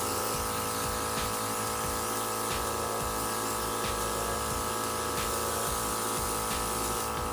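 A Temptu airbrush sprays makeup in a steady, unbroken mechanical buzz with an airy hiss. It stays loud and close throughout with no pauses.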